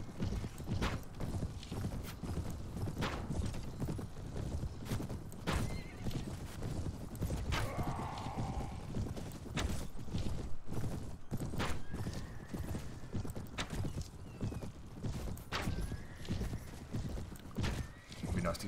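Horses in the Mount & Blade Warband game, Anno Domini 1257 mod, with hoofbeats clip-clopping steadily among battle noise and an occasional whinny, under continuous talk.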